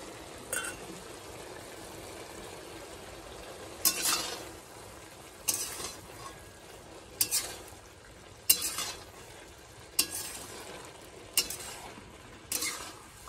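Fish pieces frying in a pan and being stirred, a steady sizzle broken by about eight sharp scraping strokes spaced roughly every second or two, close and moderately loud, no voices.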